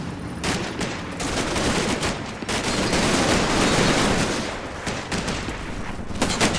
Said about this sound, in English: the sheer firepower they can put out with their MG42s is enormous